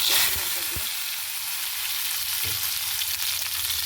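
Mustard seeds, a chilli and curry leaves sizzle and crackle in hot oil, a steady, bright frying hiss with a few soft pops and utensil taps, no voices.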